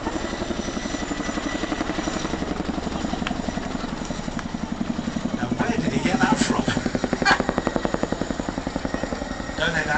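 A Chinook helicopter hovers at an outdoor air show after a fast approach and sudden stop, its heavy rotor thump pulsing steadily and loudly throughout, with a rising whine and some faint crowd or commentary noise underneath.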